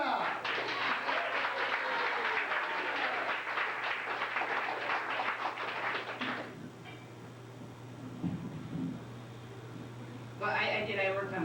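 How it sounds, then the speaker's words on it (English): An audience at a 1993 audition show applauds a performer onto the stage, dense sustained clapping for about six seconds, then a quieter room tone with brief voices near the end. "a big round of applause, and welcome to the stage"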